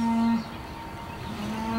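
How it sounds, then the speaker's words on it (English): Cow lowing near a garden, a long sustained moo at the start and another rising at the end, loud and close over quiet outdoor background, with no talk. "we got a cow bulling"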